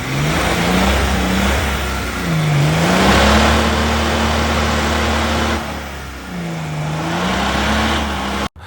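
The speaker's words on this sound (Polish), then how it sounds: "Opel Frontera B z silnikiem, uwaga, BMW M57." An Opel Frontera B off-roader fitted with a BMW M57 diesel engine runs close by, its engine note rising and falling through several rev swells over a steady low rumble, with no talk over it.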